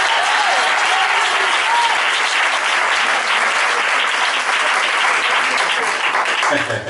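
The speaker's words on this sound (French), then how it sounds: "Les femmes acclamez le Seigneur pour vous-même." Church congregation of women applauding and cheering in acclaim, a dense, loud, sustained wash of clapping that fills the whole stretch, with a few voices rising above it.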